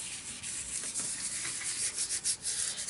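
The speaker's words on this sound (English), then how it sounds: "So I'm just going to rub my fingers across this" Fingertips rub paper against a gel printing plate in a soft, continuous close-up scrubbing with gentle rhythmic swells and no talking.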